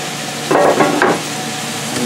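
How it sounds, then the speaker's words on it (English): Ground meat browning in a pan with tater tots frying nearby, a spatula stirring through it in two quick scraping bursts over a soft, steady sizzle. "And we'll continue to brown the meat."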